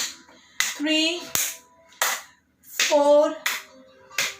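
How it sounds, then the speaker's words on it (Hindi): Hands clapping softly back and forth in a morning yoga session for COVID-19 patients at a care centre, a few spaced claps under an instructor's counting voice. "धीरे से आगे पीछे ताली बजाएंगे"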